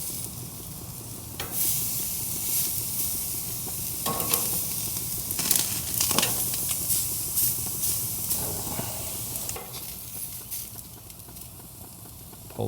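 Seasoned meat sizzling on a Monument Denali 605 Pro gas grill, a steady frying hiss punctuated by scrapes and clatters of the spatula as pieces are flipped, with no talk.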